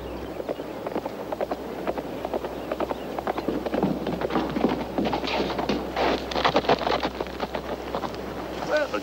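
Horse hooves clip-clop in a 1961 western film, a string of irregular thuds under gusty wind noise, with voices speaking intermittently over them.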